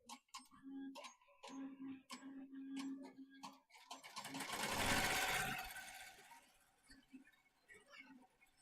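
Melco Summit embroidery machine stitching a quilt label, a rapid mechanical clatter of needle strokes in repeating bursts with a louder whirring stretch in the middle, close and moderately loud.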